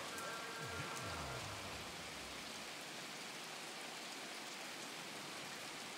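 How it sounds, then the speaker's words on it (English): Rain falls on a wet evening at an outdoor football game in Pittsburgh, a steady, even hiss of drops that fills the whole stretch without letting up. "And it's rainy out here in Pittsburgh."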